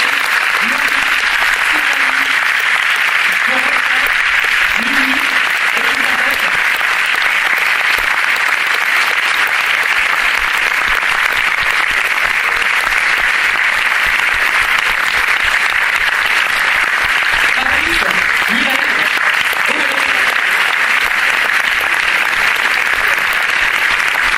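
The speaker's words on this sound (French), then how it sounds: "je vous demande d'applaudir Rachel, Michael" An audience in a hall applauds volunteers with steady, dense clapping that lasts throughout, with a few faint voices showing through the applause.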